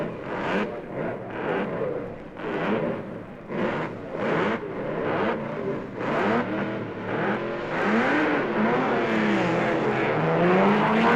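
Mercedes racing cars of 1958 at Oulton Park circuit, engines revving and accelerating past in a series of loud, rising passes, one car after another, growing steadily louder and more continuous toward the end.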